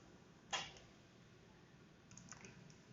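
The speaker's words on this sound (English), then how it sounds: "I will type this in my calculator." Calculator keys pressed for a math problem: one distinct click early, then a short cluster of soft taps near the end, faint in a quiet room.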